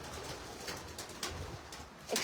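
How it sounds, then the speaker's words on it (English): Pet pigeons kept alongside a herd coo in a low, soft warble, repeating in short murmuring bursts at close range over a quiet background with light rustling. "Excuse our crazy pigeons."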